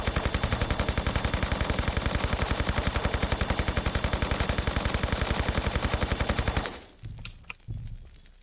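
Rapid, evenly spaced automatic gunfire in Tomb Raider III Remastered, a loud steady burst lasting about six and a half seconds, then stopping abruptly and leaving a few faint scattered sounds.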